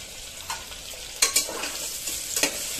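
Finely chopped tomato sautéing in a pan for palak pulao, a steady close sizzle broken by a few sharp spoon scrapes and taps as it is stirred, with no talking.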